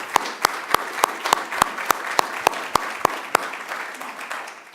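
An audience at an awards ceremony claps in a brisk, evenly spaced rhythm, a dozen or so sharp claps in quick succession over a faint crowd murmur.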